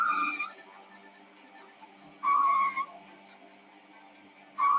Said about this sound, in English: The car's skidding.